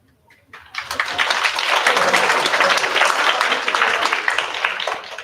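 Audience applause at a high school humanities symposium, rising quickly after a brief quiet start into sustained dense clapping from a large crowd that holds steady for several seconds.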